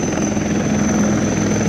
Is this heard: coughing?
no